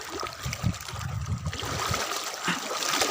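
Water waves lapping at the Dhurwa dam reservoir in Ranchi, a steady outdoor wash of small splashes and trickles with some low rumble, moderately loud and continuous throughout.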